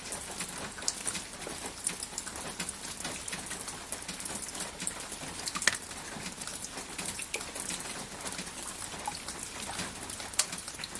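Steady rain pattering on surfaces, a continuous dense hiss of drops with occasional louder splats, while a pigeon or dove coos faintly in the background.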